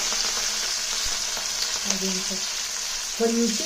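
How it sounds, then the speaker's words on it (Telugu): A large onion and curry leaves fry in oil over low heat, a steady close sizzle with occasional spoon taps and a brief scrape near the end, without talk. "ఇప్పుడు ఇవి ఆయిల్లో వేసేద్దాం"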